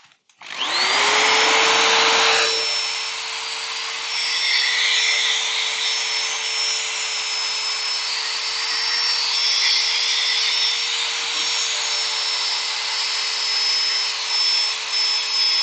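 A heavy-duty power sander runs steadily on a rosewood incense holder, a loud sustained whine with a bright tonal hum that starts abruptly and holds for many seconds, up close with no talking.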